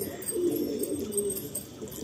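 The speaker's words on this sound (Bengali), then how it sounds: "এটা নর পায়রা আছে, আগেরটা আপনারা ফিমেল দেখেছেন।" A male breeder pigeon cooing close by, a soft low rolling coo that swells and fades for a couple of seconds.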